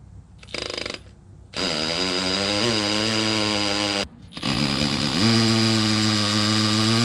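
A power drill bores holes into concrete to mount equipment: a brief burst, a pause, then a long loud grinding whine that stops, restarts and climbs in pitch as it bites.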